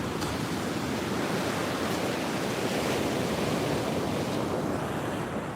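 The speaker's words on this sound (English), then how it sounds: "The sound of crashing waves." Ocean waves crash steadily on the beach at Vero Beach in the morning, a continuous loud roar of surf and wash with no break and no voices.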